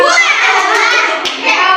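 Children clap their hands through the Tepuk Sambal clapping game, the claps close and mixed under a continuous sung chant of children's voices.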